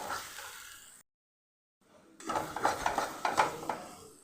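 Spoon clattering and scraping in a pan as sliced patol (pointed gourd) is stirred with salt, turmeric, chilli powder and sugar, a brief pause in the middle, then louder repeated scrapes and knocks up close.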